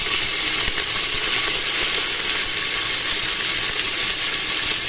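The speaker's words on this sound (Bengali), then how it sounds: "কালো জিরে ফোড়ন দেওয়া হয়ে গেছে, এবার এর মধ্যে আলুগুলো দিয়ে দিলাম।" Potatoes hitting hot oil tempered with nigella seeds give a loud, steady, dense sizzle that fills the whole stretch without a break, with no voices over it.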